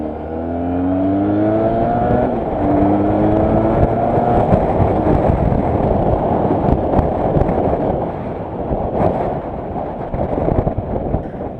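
A Benelli 302R motorcycle engine revs up during a ride, its rising drone climbing in pitch through the gears, loud and close with heavy wind rush over the microphone.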